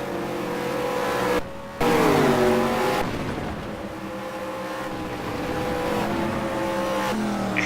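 Race car engines roaring at high speed in a racing video game, a sustained whining drone with pitch shifts through gear changes and a brief dip, loud and steady with no voices.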